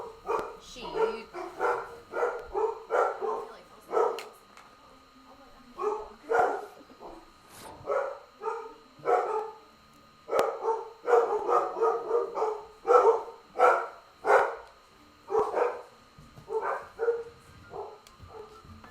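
Dogs in the game Witcher 3 bark again and again in rapid bursts through the clip, loud and close, with yips mixed in and talk in places.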